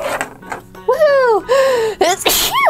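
A toy character in a pig doll house play scene lets out a voiced, cartoonish sneeze among cheerful, high-pitched character voices and excited exclamations.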